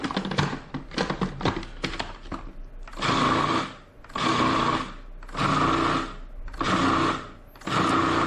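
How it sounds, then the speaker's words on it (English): Food processor chopping chickpeas, herbs and garlic, starting with a rattling chatter and then running in five loud, close whirring pulses of about a second each, separated by short pauses. "Doesn't need to be super fine because it's all going to get chopped up a little bit more inside the food processor anyway."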